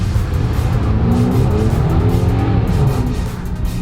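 A BMW M135i engine, still cold, roars loudly and steadily in a tunnel, revving and pulling hard from close by with a continuous rumble.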